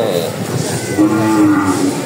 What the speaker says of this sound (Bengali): এই 2টা গরু মনে হয় দাঁতিল